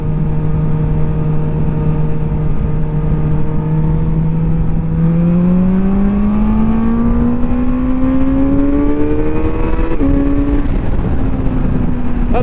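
A QJ Motor SRK921 motorcycle accelerates on the road, its loud, steady engine drone rising in pitch through the gears with a brief shift near the end, heard from the rider's position with heavy wind rush.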